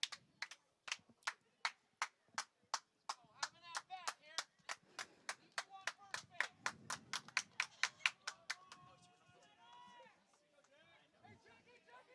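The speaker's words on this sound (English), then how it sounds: "it seems like the crowd is a little rowdy right now" Rowdy crowd at a high school baseball game, with sharp rhythmic clapping in a steady beat that fades into chatter and cheering voices, people talking throughout.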